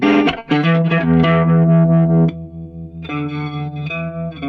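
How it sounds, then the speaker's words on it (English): Electric guitar played through a HeadRush GigBoard with air flanger and spring reverb, a run of bright, sustained notes with a swirling, echoing tone, then a brief drop and a softer phrase, loud and clear without talk. "So you can put the air flanger through your speaker and the spring reverb goes through another amp"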